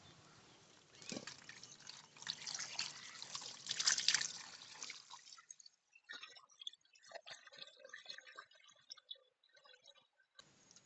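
Water is poured over fish as it is washed for a fish curry. A soft splashing pour fills the first half, then gives way to scattered drips, trickles and light clinks, all fairly faint.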